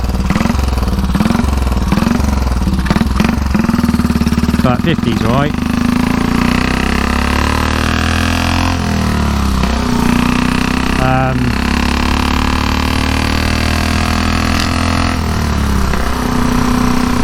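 A 1934 Velocette KTT motorcycle engine drones steadily while riding on open roads at around 50 mph, a continuous close rumble beneath a rider talking throughout.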